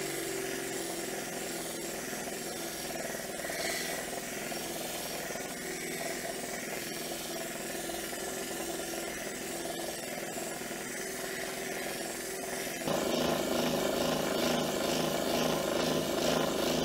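Agate being ground on a water-fed lapidary machine, a steady wet rasping and whirring grind that grows louder and harsher near the end, close up with no voices.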